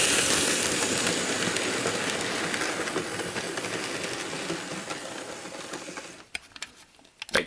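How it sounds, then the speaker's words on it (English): A model train backing into a tunnel rumbles and clatters steadily, loud and close, then fades and stops, leaving a few scattered clicks. "James, now back up your train into the tunnel"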